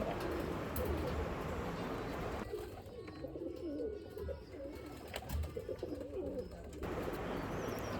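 A pair of crested Saharanpuri pigeons coo in low, repeated murmurs close by, with a dense chorus of other loft birds cooing and fluttering around them throughout.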